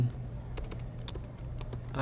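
Typing on a computer keyboard while writing HTML, a steady run of close, quick key clicks with an irregular rhythm over a low background hum.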